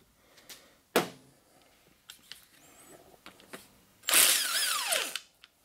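A half-inch impact tool removes the turbo bolts on an SR20 engine, with short close mechanical clicks and clunks followed by one loud whirring burst that winds down in pitch.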